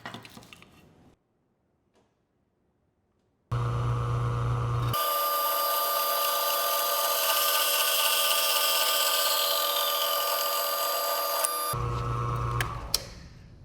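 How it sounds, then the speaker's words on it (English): A drop saw cutting metal sign pieces held in an extended vise, a steady loud whine that runs for about eight seconds and then winds down, with some handling noise before it. "Right now I can cut it in the drop saw when they're by themselves."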